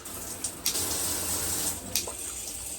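Water runs from an RV shower head set to a slow-drip setting, a steady hissing flow with a few brief splashy bursts, close and alone.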